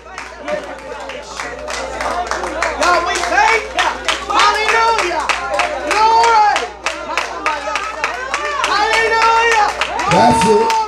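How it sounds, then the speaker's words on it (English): Church congregation claps hands in praise, rhythmic clapping mixed with loud shouting voices and crowd noise, close and energetic throughout. "I dare you to clap your hands and"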